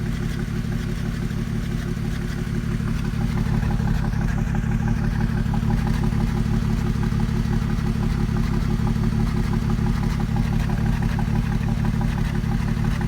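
A 2001 Ford Mustang 3.8 V6 idles roughly with its exhaust note, a loud, steady low rumble with uneven pulsing that runs unbroken for about thirteen seconds, close to the microphone with no talking.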